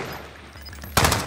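Short burst of rapid automatic gunfire in Call of Duty: Modern Warfare, breaking loudly out of a quiet low background near the end of a very brief moment.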